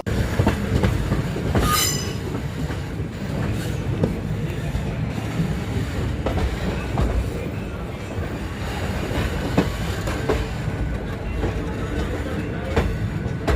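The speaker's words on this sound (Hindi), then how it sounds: "चलिए अब आप लोग हमारी ट्रेन का अराइवल देखिए" Somnath Ahmedabad Intercity Express rolling through Wanknaer junction, a loud steady rumble of passing coaches with wheel clatter and a brief high squeal near the start, continuous throughout.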